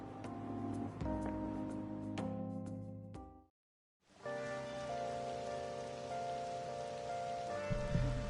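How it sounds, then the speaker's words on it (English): Rain falls during a stroll in the video game Persona 5 Royal: a steady hiss of rainfall under tonal game music, cutting to silence for a moment before the rain and music resume. "A nice stroll through the rain."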